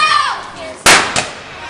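A sharp firecracker bang bursts out at a Fallas celebration in a Valencian town, followed moments later by a second, weaker pop, while a voice trails off just before.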